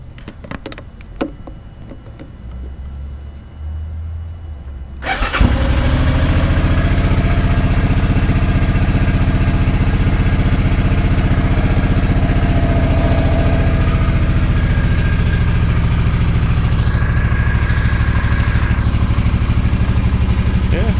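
A Suzuki motorcycle engine fires up after a few quiet clicks and settles into a loud, steady, close idle that runs without a break.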